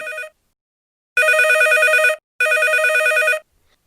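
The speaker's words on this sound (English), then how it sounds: "At that point, the phone rang." An old-style telephone bell rings loud and close in repeated double bursts, a brief ring and then two longer rings separated by short pauses, with no talking.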